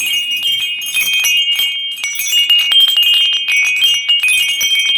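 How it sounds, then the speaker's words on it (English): Metallic wind chimes ring and tinkle continuously, bright overlapping tones and clinks filling the space at close range, loud and steady with no voices. "Wind chimes everywhere."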